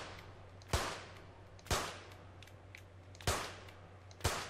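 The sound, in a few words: gunshots in clay target shooting, London 2012 video game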